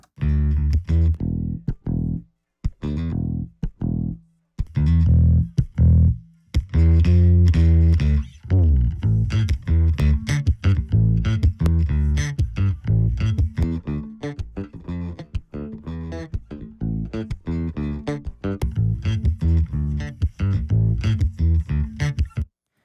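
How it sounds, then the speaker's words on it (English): A driven, distorted bass-heavy instrument line shaped by a distortion plugin, playing in a busy mix, gritty and saturated, with a few pauses early before a steady groove. "In a mix like this, that distortion helps it cut through"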